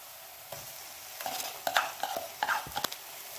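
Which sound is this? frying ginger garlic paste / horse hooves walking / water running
frying ginger garlic paste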